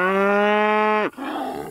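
A grieving cow whose calf was killed by coyotes lets out a single loud, close, drawn-out moo that breaks off abruptly near the end, with no talk over it.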